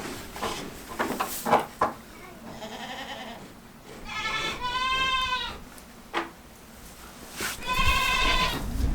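Goats on a small homestead farm bleat several times during a health procedure, their wavering calls close and loud between stretches of rustling, handling noise and a few knocks.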